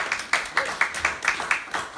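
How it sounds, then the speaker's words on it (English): An audience at a real estate company gathering gives a steady round of applause, sharp distinct claps in a brisk regular rhythm, close and moderately loud, with little else beneath. "Round of applause for that."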